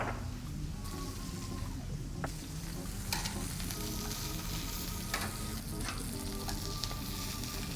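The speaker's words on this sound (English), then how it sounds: "If you hear a nice sizzle, you know your oil was very nice and hot" Meat sizzles and fries in hot olive oil in a pan, a loud, continuous crackling hiss with scattered pops and occasional scraping clinks of a utensil.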